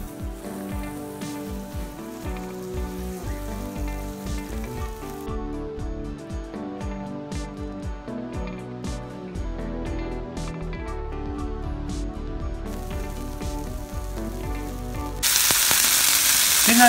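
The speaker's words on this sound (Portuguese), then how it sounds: "Coloquei um fio de óleo para fritar o nosso hambúrguer." A homemade hamburger patty fries in a thin drizzle of hot oil in a pan, giving a steady close sizzle over a low music bed, with the crackle rising sharply in the final seconds.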